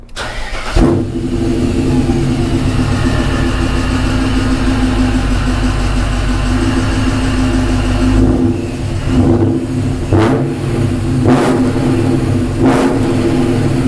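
A supercharged BMW E39 M5 engine cranks and fires up loudly, settles into a heavy idle, then gets several sharp revs under 3,000 RPM near the end.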